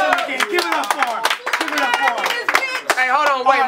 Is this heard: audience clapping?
yes